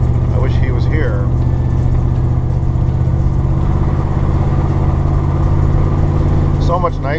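A 1975 Jeep Cherokee Chief driving along a snowy road, a steady loud low engine rumble and road drone throughout, with brief talk at the start and end.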